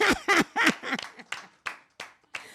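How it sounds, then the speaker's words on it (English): One person claps alone for themself after a live acoustic country performance, a handful of sharp, separate claps that slow and thin out over a couple of seconds in a quiet room. "I'll clap for myself."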